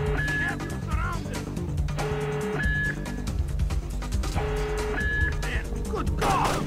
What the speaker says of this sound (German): Okay, Alarm ausgelöst.